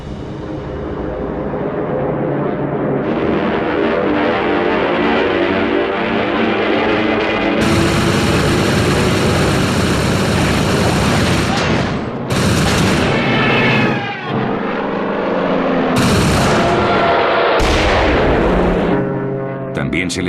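Archival World War II aerial battle over the Marianas, with loud continuous aircraft engine roar and bursts of gunfire and explosions, dense and sustained throughout with sharp cuts between sections.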